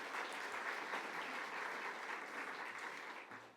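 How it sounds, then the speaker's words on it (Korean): A church congregation at a Korean Sunday afternoon service gives a choir a round of applause, a steady, dense clapping that holds for several seconds and then begins to fade. "우리 보아스 찬양대에게 다시 한번 박수 한번 부탁드리겠습니다"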